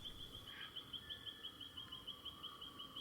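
Birdsong in the Australian bush where kangaroos and wallaroos live: a fast, regular series of short, high chirps repeats steadily over a soft, constant outdoor hiss. Quiet and somewhat distant, with no talking.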